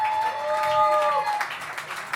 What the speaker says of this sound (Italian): Signori e signori, con un grande applauso accogliamo qui al salotto gli